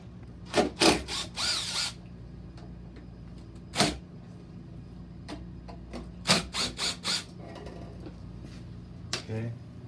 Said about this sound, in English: Then we got some more screws here on the side we gotta take off.